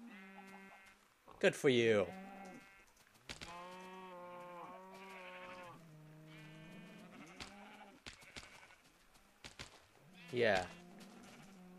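Sheep in the Minecraft video game bleat several times, short wavering nasal cries rising and falling, while a person chats over the calls in a small recorded voice with occasional buzzy game noises.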